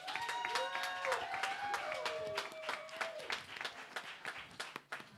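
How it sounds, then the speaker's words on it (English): An audience at a live Halloween-themed game show applauds the performers, with a dense burst of clapping mixed with scattered whoops and cheers that thins out toward the end. "let's give a huge round of applause"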